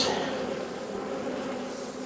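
Honey bees swarm and buzz around an opened hive during a honey harvest, a dense, steady drone of many wings filling the air close by for the whole stretch, with faint talk underneath.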